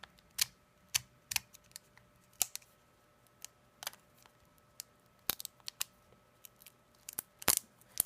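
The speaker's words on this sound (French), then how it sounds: "on va attaquer les boosters Shining. Allez, on va essayer de l'ouvrir aussi bien celui-là." Pokémon Shining booster pack being carefully opened by hand, scattered sharp crinkles and tearing snaps of foil packaging, close up, with quiet pauses between bursts.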